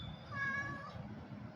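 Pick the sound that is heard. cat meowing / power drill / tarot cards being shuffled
cat meowing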